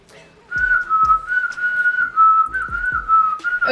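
A person whistles a song, one sustained clear melodic line held almost continuously, close and loud, with soft thumps and breaths underneath.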